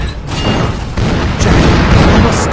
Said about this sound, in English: Stop those cannons from destroying the Interceptor!